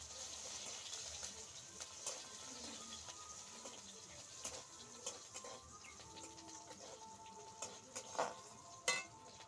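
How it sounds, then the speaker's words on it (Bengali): Chopped onions stirred in a pan of hot oil for a fish curry, with a steady low sizzle and occasional scraping and stirring clicks throughout, plus faint bird calls in the background. "পেঁয়াজ কুচি দিয়ে দিয়েছি, একটু নেড়ে নিব ভালো করে"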